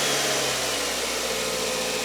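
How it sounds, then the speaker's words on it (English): An engine idles steadily in a close, continuous hum while an oxygen sensor is tested, a broad even drone with no talk over it. "So now if we start the engine"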